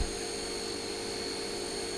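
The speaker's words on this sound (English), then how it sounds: "I'm going to go ahead and turn the spindle on" Steady whine of a radial drill press spindle spinning up in a machine shop, with coolant rather than cutting oil set for drilling holes; a continuous, even hum holds alone without talk throughout.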